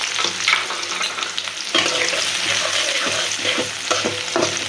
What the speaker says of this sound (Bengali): পেস্টটা একটু সুন্দর করে ভাজা ভাজা করে